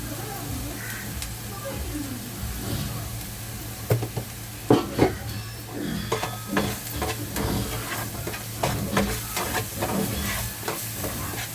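Masala fries in a pan for a corn-on-the-cob curry, a steady sizzle under frequent spatula stirring and scraping with a few louder clanks. A crow may caw faintly in the background.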